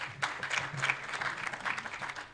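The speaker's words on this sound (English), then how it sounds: "Let's just give them a round of applause." An audience at a business breakfast meeting gives a round of applause, a brief burst of scattered clapping heard fairly faintly.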